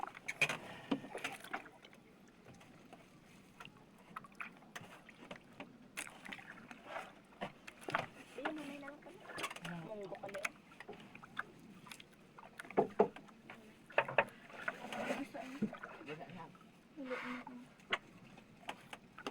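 Water sloshes and splashes in uneven strokes as a small boat is paddled, with faint voices and a soft breeze in the background.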